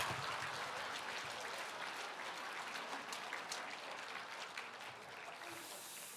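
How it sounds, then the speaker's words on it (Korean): A church congregation claps during a Sunday worship service, a broad, even wash of many hands in a large sanctuary that holds steady for several seconds before fading. "박수 치고 한바탕 웃어볼까?"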